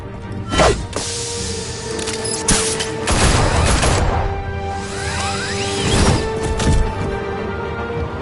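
Gunfire in a Batman video game as thugs shoot at Batman, a steady clatter of distant shots mixed with whooshes and impacts across the whole stretch.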